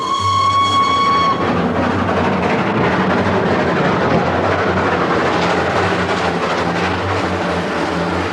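A train at Aldgate Station rumbles steadily along the rails, opening with a sustained whistle blast that gives way to continuous rolling wheel noise and rhythmic clatter, loud and close, with no voices.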